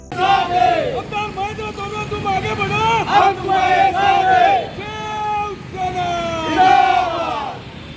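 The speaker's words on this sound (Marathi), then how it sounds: "शिवसैनिकांनी यावेळी जोरदार घोषणाबाजी केली" Shiv Sena supporters shout slogans loudly in celebration in Khopoli, a crowd of voices chanting together in rising, drawn-out calls that swell and repeat over about eight seconds.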